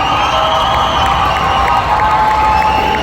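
Loud crowd cheering and clapping at a cheerleading competition awards ceremony, with shouts, whoops and children's voices blended into a continuous roar that holds steady throughout.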